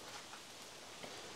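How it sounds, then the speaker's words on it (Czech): Outdoor rain falling as a steady, dense hiss of drops, faint and continuous throughout, with no talk. "Chvilku počkáme, přečkáme ten déšť."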